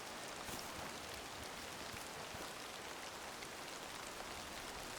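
Steady rain falls in the hunting video game Way of the Hunter 2, a continuous soft broadband hiss that stays even throughout, with a voice speaking faintly over it.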